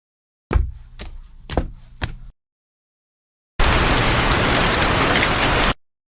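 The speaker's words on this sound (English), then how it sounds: "Why is it raining?" Rain in an animated cartoon: a few sharp knocking drops, then a burst of steady, dense downpour hiss, loud and close, cutting off abruptly.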